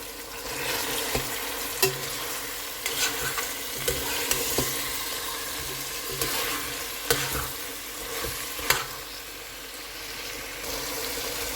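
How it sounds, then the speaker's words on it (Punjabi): Green chillies fry in hot oil in a pan, a steady close sizzle broken by repeated clicks and scrapes from stirring, with no talking. "ਤਾਂ ਅਸੀਂ ਸਿਰਫ ਹਰੀ ਮਿਰਚ ਨੂੰ ਥੋੜ੍ਹਾ ਜਿਹਾ ਭੁੰਨਾਂਗੇ"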